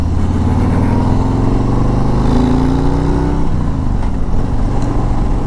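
A 2021 Harley-Davidson Street Glide Special pulls hard in fourth gear, its loud, close engine note climbing steadily as the throttle opens, with wind rushing over it.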